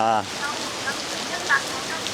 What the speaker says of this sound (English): Wow, that rain is really coming down.